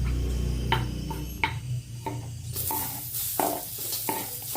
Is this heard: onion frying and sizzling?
yes